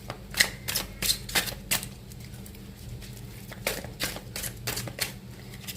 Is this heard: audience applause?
no